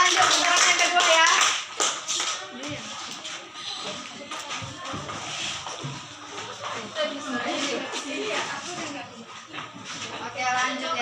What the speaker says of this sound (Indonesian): Ini putaran pertama, kita kasih tepuk tangan.